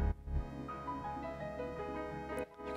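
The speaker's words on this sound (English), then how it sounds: "in the original loop, he actually has this pretty dope sub bass" Sampled music loop with its original deep sub bass restored in place of a replacement bass line, steady and full with sustained low end and layered melodic tones, side-chained under the drums, briefly dipping near the end.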